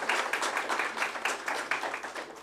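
Audience applause for a university conference panel at an inaugural academic conference, a steady patter of hand claps from a modest crowd with uneven surges, no voices over it.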